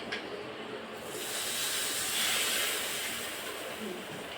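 Hot tempering of mustard seeds in oil is poured into peanut chutney, giving a loud, close hiss that swells for a couple of seconds and then settles into a steady sizzle.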